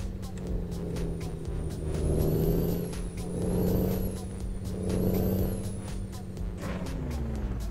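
A Freightliner Cascadia truck in American Truck Simulator rumbles as its engine note swells and falls, with a high whining tone and rhythmic ticks under the braking.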